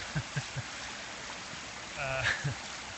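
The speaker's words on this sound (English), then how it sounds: "Here's my bubbling Buddha display." Water bubbles and trickles steadily from a Buddha water feature display in a water-feature showroom, a soft continuous babble with a few faint splashes and a short burst of talk partway through.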